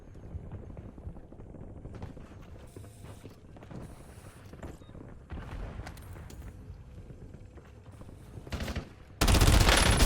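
Automatic gunfire rattles during a Call of Duty: Warzone match, with bursts of shots and mechanical clicks in a busy game soundscape, ending in a sudden loud, dense blast of fire close by.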